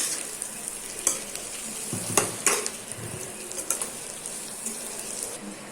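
Potato masala with turmeric is stirred in a pan, a soft sizzle running underneath while a utensil scrapes and taps the vessel a few times, fairly close and moderate in level.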